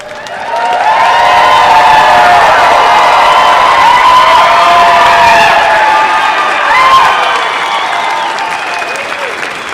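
A large crowd at the Adams State University Fall 2023 commencement cheers, whoops and applauds for the new graduates, a loud, dense and sustained roar of voices and clapping that holds steady throughout.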